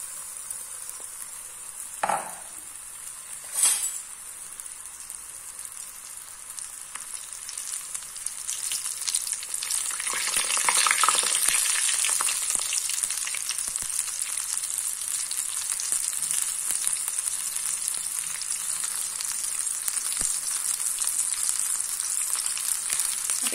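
Onion rings deep frying in a pan of hot oil give a steady, close sizzle that starts moderate, swells louder about halfway through and then holds, with a couple of sharp clicks near the start and no talking.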